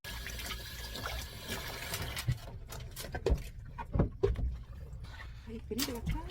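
LA galbi beef ribs being washed by hand in a basin of water, with close sloshing and dripping splashes and occasional knocks, running under a person speaking throughout.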